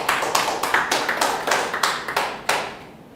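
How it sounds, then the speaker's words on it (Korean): A church congregation at a Sunday worship service claps in quick rhythmic unison, about a dozen sharp claps over two and a half seconds before stopping and fading into room echo. "하나님께 영광의 박수를."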